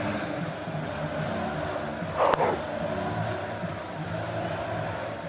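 Stadium crowd at a Pakistan vs England one-day cricket match cheering, a moderate, fairly distant roar of many voices with a brief sharp burst partway through.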